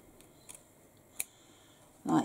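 Scissors trimming a last bit of bag fabric, a few faint, quick snips spaced apart before a voice starts speaking.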